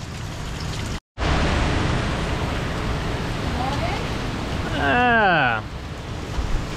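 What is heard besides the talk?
hurricane wind gusts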